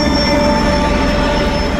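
An SKM commuter train in Poland pulls into a station, a loud steady rumble of wheels on rail with a sustained high metallic squeal ringing over it throughout, no voices.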